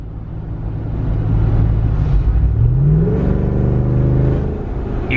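A 2021 Jeep Wrangler Rubicon with a 392 V8 HEMI accelerates, its deep engine rumble swelling into a loud rising roar as revs climb, then easing off, heard close and alone.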